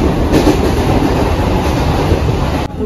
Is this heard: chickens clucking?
no